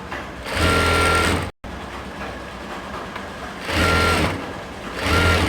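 A sewing machine stitches lehenga fabric in steady whirring runs, stopping briefly and then starting again, close and loud with no talk.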